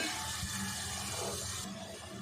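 Water is poured into a cooking pot for matar pulao, a continuous splashing gush that runs steadily throughout and is heard alone.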